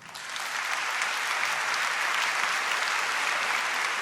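A church congregation applauds steadily at a Corpus Christi Mass, with dense, sustained clapping that swells in the first half second and then holds at an even level throughout, with no talking.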